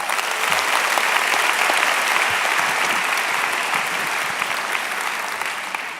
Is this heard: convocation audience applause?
yes